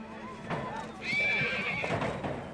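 Wild horses out in winter, one whinnying loudly and close with a long shrill neigh while a few hoof thuds sound on the ground and a narrator's voice talks over them.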